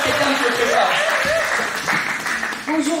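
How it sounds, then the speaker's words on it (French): A church audience clapping at a Sunday school event, sustained applause mixed with voices and a little laughter, loud and close. "On applaudit pour lui, le frère Étienne se prépare."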